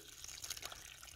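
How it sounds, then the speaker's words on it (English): Water running from a garden hose adapter threaded onto an IBC tote, a steady close splashing hiss with no talking. "here's water at the garden hose."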